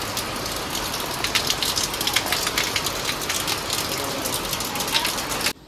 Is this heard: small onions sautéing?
no